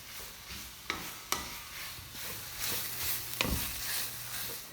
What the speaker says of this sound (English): Now we're gonna let the fat from the sausage render down into the pans